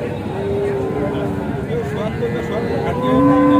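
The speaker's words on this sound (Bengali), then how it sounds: "মোটামুটি বেশ কোয়ালিটির ষাঁড়।" A young bull lows loudly and at length at a busy village cattle market in Panchbibi, with market chatter and voices around it.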